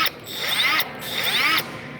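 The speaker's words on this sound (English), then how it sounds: "This is the cutoff tool. It's a 3-inch cutoff tool" A Milwaukee M18 3-inch cutoff tool runs in two short bursts, each time spinning up to a whirring, rising whine before cutting off. It sounds close, with no talking.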